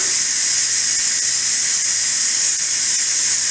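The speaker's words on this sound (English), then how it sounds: "All right, now that steam is coming out." Steady, loud hiss of steam venting from a pressure cooker valve while potatoes cook, continuous and close with no pauses.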